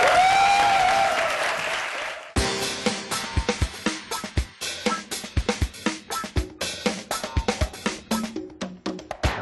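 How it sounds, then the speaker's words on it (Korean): Studio audience on a Korean talk show applauds to welcome a guest, a KAIST graduate, clapping bursting in loudly after a brief lead-in and continuing as a dense, steady round with sharp individual claps. "큰 박수로 환영해 주세요."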